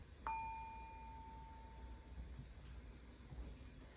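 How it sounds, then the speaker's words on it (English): A single small handheld bell is struck once, its clear ring sustaining and slowly fading over about two seconds in a quiet indoor room, followed by faint background noise. "So maybe you have a bell or something. This is my bell."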